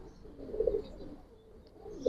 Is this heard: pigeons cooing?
yes